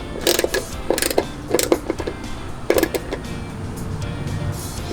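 A 13 mm bolt on a Jeep TJ side mirror is cinched with a wrench: a few quick bursts of ratcheting clicks with short pauses between, close and moderately quiet, with no talking.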